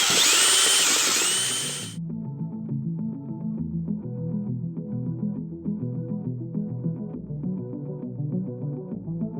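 A drill bores holes in a sailboat hull to fit underwater lights, giving a loud, harsh whining burst for about two seconds before it cuts off, leaving faint tonal background sound.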